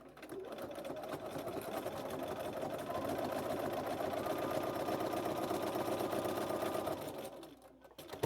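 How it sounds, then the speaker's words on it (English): A sewing machine runs continuously while top stitching layers of quilted fabric at a 3mm stitch length, a close, steady mechanical whir lasting several seconds before slowing to a stop. "I'm going to set my machine to a 3mm stitch length before I sew."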